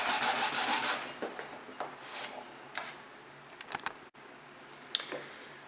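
Sawing or rasping through half-inch thick resin on a Disney Nautilus model, close up: repeated rough rubbing strokes, strong at first and then thinning into intermittent scrapes, with no talk.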